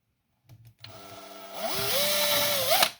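A power drill with a small masonry bit bores into a kitchen wall to mount a microwave bracket, starting with a couple of short bursts, then spinning up into a loud, steady whine that builds and holds close by.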